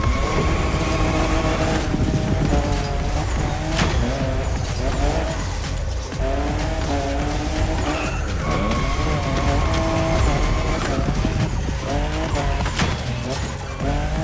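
Toyota Supra, fifth generation, drifting in the racing game The Crew Motorfest: a loud, continuous engine roar that sweeps up and down in pitch with shifts, over steady tire squeal and skidding, with no pauses throughout.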